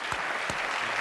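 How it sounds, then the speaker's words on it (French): Studio audience applause on a French television game show, a short steady burst of clapping filling the whole moment, moderately loud with no voices over it. "Nous vous applaudissons."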